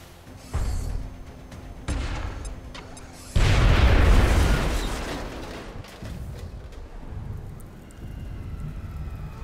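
A grenade blast in XCOM Enemy Within, a loud close boom that rumbles and slowly fades, set among quieter game effects and thuds before and after.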